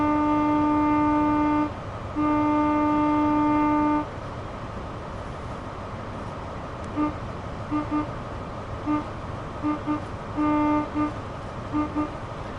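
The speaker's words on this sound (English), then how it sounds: "Let's sound the horn one more time, because it is quite a foggy day." Train horn in Train Sim World 3 on a foggy day, two long sustained chord blasts followed by a run of short staccato toots, loud and alone with no talk.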